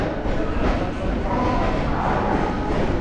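Rumble and rattle of a Kolkata local train pulling away fills the carriage interior, a dense, steady roar with faint clattering, heard from inside.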